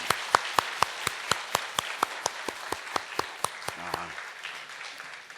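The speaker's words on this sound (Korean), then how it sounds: "잠깐 자리에서 일어나시면 우리 박수로 환영하겠습니다." Church congregation claps in a steady, even rhythm to welcome new members, about twenty distinct claps in a row that fade out near the end.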